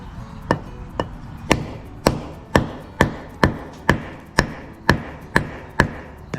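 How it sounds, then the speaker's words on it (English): Hammer blows striking down on something set over cement, a steady series of about twelve sharp, loud, evenly spaced knocks, close and alone with no talking. "if I hammer this down, looks like I'm gonna have to"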